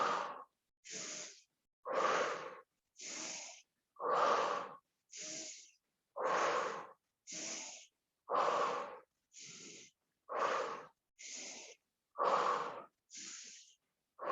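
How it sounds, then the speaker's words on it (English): Steady cycle of audible breaths, roughly fourteen alternating inhales and exhales, drawn in and pushed out during a seated yoga twist; each breath is close and airy with slight wheezy rasp, no talking. "Inhale to center, exhale as you twist."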